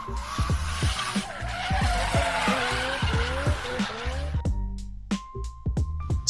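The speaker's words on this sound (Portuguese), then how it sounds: "E roda a vinheta." Short intro jingle of music blended with repeated screeching car tire squeals, loud and upfront, ending in a few sharp accent hits.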